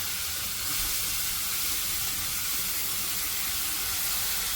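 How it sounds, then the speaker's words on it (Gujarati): Ginger-chilli paste, capsicum and onion sizzling in hot oil in a pan for paneer bhurji, a steady loud hiss and crackle throughout with no talk. "આદુ મરચાંની પેસ્ટ, તડકો તડાકેદાર. કેપ્સિકમ, કાંદા અને બધું જ નાખી દઈશું."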